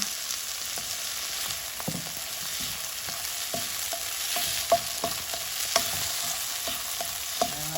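Eggplant stir-fries in a hot pan with a constant close sizzle, broken by regular clinks and scrapes of a utensil stirring the pieces.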